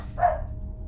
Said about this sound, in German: wir bellen einfach mal weiter, bis er hoffentlich hier reinkommt